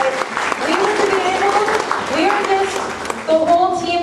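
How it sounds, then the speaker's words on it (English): A convention crowd at an opening ceremony applauds its volunteers and vendors, steady clapping with voices, cheers and a few shouts rising over it throughout. "round of applause to our volunteers and vendors"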